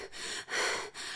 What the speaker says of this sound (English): she's breathing heavy, she's breathing deep